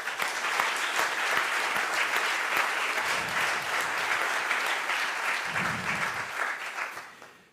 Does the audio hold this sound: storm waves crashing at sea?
no